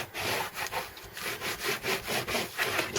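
Paper is burnished down in a handmade mini album, giving a rhythmic back-and-forth rubbing and scraping that repeats quickly and steadily at close range.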